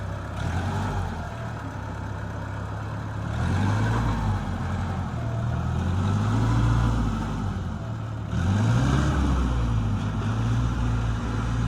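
An Iseki NT554 tractor pushing soil drones steadily nearby, its diesel engine surging in repeated revs and easing back between pushes, loud throughout.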